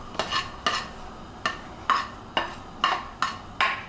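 Shredded cabbage and carrots drop into a pot of borscht in a series of about eight soft, evenly spaced thumps and rustles, close and clear with no talking.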